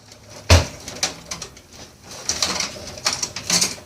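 A single screw being taken out of a Dell desktop computer during teardown for recycling, with a sharp metallic clunk followed by scattered small clicks and scraping of tool on metal, close and fairly quiet.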